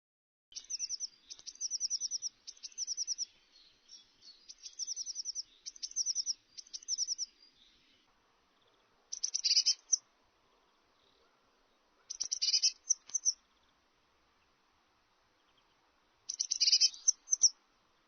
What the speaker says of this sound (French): La mésange bleue.